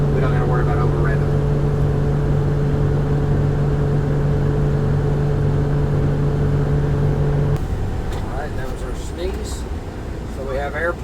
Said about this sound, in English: And we'll build that back up by holding the accelerator down. This has a rev limiter on it, so it won't go past 12, so we can bury it to the floor.